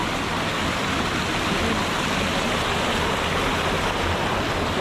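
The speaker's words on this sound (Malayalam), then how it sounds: "ഇവിടെ നമ്മൾ നല്ലോണം വെള്ളം നല്ലോണം പതച്ചു വീഴുന്നുണ്ടല്ലേ" Water foams and plunges at a waterfall near the peak of Aranamala in the Wayanad jungle, a loud, steady, broadband roar with no pauses.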